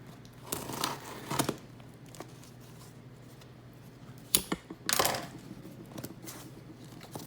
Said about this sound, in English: My scissors will cut the tape, that is.